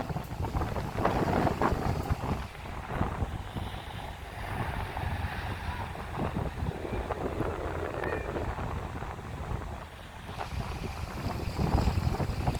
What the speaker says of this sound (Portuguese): Opa, muito vento.